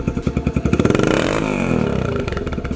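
Yamaha TTR125 dirt bike running without its exhaust baffle, a loud, close, harsh popping engine note that rises briefly in revs and then settles back into a rapid, even beat.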